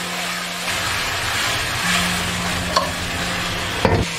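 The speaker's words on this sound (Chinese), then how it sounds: "再给它煎个1分钟左右。" Clams (seashell clams) frying in a pan with scallion pieces, ginger slices, cooking wine and soy sauce, giving a steady, moderately loud sizzle with some stirring and a brief clatter near the end.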